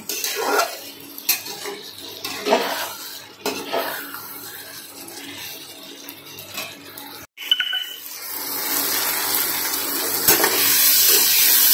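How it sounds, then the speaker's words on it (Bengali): Dishes and utensils being scrubbed and rinsed at a home sink, with clinks of pots and cutlery, bursts of scraping and a stretch of running tap water, close and irregular, no talk. "আমি ওদিকে বাসন টাসনগুলো মেজে নেব"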